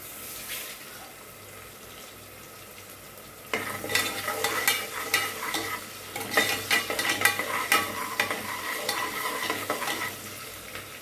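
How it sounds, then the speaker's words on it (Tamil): Sliced onion sautés with a little salt in a pan for biryani-style mint rice, sizzling steadily while a spoon stirs and scrapes close by in irregular strokes. "இந்த ஆனியன் வதங்கிறதுக்காக லைட்டாக சால்ட்டு போட்டுக்கலாம்"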